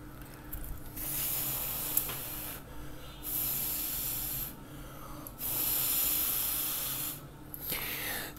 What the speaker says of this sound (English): So I'm going to try to blow on both of them at same time